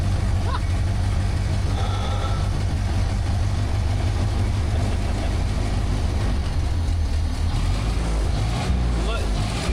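Steady running of a 1929 Ford Roadster engine, loud and close, with a constant low throb and mechanical clatter and no pauses, heard on its own without voices.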